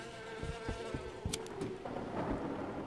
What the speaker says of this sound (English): Oh, it's a bee.